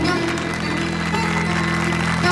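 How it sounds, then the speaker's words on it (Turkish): Audience applause rises over a backdrop of sustained music tones at a festive party gathering, continuous and fairly close for a couple of seconds. "Alkışlar gelsin lütfen"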